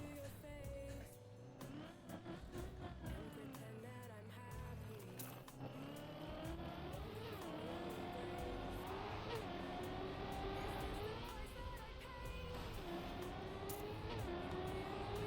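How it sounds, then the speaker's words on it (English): Video game car drives continuously with a loud engine whine rising and falling in pitch, a few tire-squeal-like sweeps and clicks mixed in, with no speech over it. "Car."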